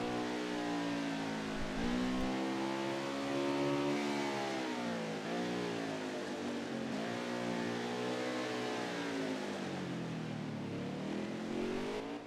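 Race car engine heard on board for a lap at Canadian Tire Motorsport Park in a racing video game, loud and close, its pitch rising and falling repeatedly through upshifts, braking and acceleration, alone without talk.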